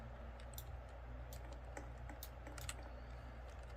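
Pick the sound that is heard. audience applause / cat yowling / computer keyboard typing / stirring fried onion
computer keyboard typing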